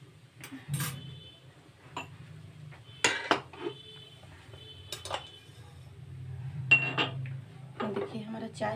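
Metal clinks and clanks of a kadhai holding sandwich masala and potato being lifted off a gas stove in a home kitchen, several sharp separate knocks and rattles scattered over a low burner hum, with someone speaking faintly between them.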